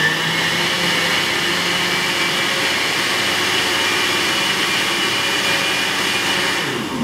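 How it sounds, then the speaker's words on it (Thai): A kitchen blender grinds cooked mung beans with coconut sugar and coconut cream, giving a loud, steady, continuous whir that runs the whole time and eases off slightly at the end. "เราก็จะนำไปใส่ลงในเครื่องปั่นครับพร้อมด้วยน้ำตาลมะพร้าวทึกๆแล้วก็หัวกะทินะครับปั่นทุกอย่างให้เข้ากันครับ"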